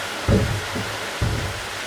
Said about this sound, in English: And it started raining